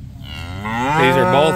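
A cow in a pasture with bull calves lets out a single loud, close moo that rises and swells over about a second, with no talking.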